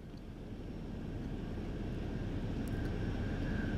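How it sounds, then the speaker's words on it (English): Steady, continuous engine drone of a passenger airplane cabin in Modern Warfare III, a broad low rumble with a faint high whine, holding level and unbroken with no talk. "On a plane."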